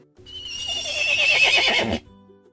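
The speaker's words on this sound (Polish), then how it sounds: "Koń." A horse whinnies once, a loud, close, quavering neigh lasting about two seconds, then cuts off.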